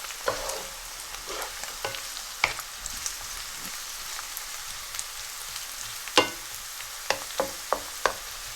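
Methi and onions fry in a pan with a steady soft sizzle. Sharp pops and spatters break through irregularly, close and fairly quiet, with no talking.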